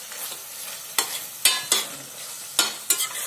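Chopped tomatoes fry with onion for a chicken masala curry gravy, a soft sizzle running under a handful of sharp spoon scrapes and knocks against the pan at uneven intervals.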